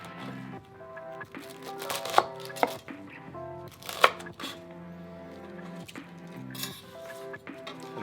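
A knife chops galangal into roughly half-inch pieces on a board, with a few sharp cutting knocks and clinks of kitchenware under steady background music.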